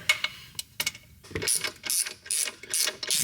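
A 3/8 flex head ratchet with a wobble extension tightens intake piping on a 2022 Ford 6.7 diesel, giving quick bursts of clicking that come in short, uneven strokes, close and clear with no talking.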